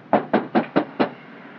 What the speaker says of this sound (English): Knock louder.